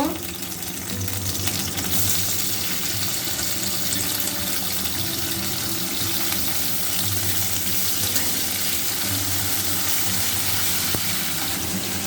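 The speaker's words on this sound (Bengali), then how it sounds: "সেটা দিয়ে দেব একটু ভেজে নেব" Frying in a wok with a little oil makes a continuous broadband sizzle with a watery, splashy texture that holds at an even level throughout, without speech.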